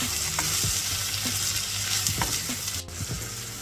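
Curry leaves sizzle and crackle steadily in hot oil in a pan, with scraping stirring strokes landing at irregular intervals over the constant frying hiss, close and fairly loud.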